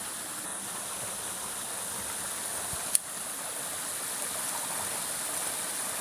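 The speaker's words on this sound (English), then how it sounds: "we'll be able to see there's a waterfall ahead." Small waterfall in a woodland stream near Hebden Bridge, a steady soft rushing of falling water, constant and unbroken, with one brief sharp click partway through.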